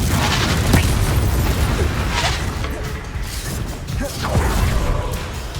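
Fiery Confringo spell explosions from Hogwarts Legacy, booming blasts layered over continuous loud game combat noise with several bursts through the stretch.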